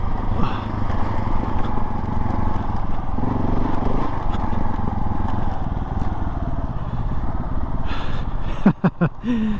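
A modified KTM 690 Enduro motorcycle rides off-road trails, its single-cylinder engine droning loudly and steadily close up amid wind and rattling, with a sharp jolt and thumps near the end.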